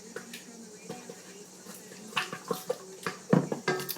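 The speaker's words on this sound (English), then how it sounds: "Stir in this melted butter, give it a quick mixture." A spoon clinks and scrapes against a cup while melted butter is stirred into a mixture, in irregular taps that grow louder and quicker, with a faint voice at times.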